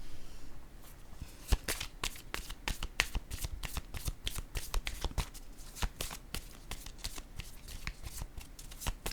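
Tarot cards shuffled by hand in a fast run of crisp riffling flicks and soft slaps, close and fairly quiet, with no voices over them.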